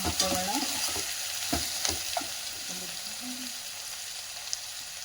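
Finely chopped ridge gourd frying in a pan for a Karnataka-style palya, giving a steady soft sizzle with occasional stirring clicks and a faint voice early on.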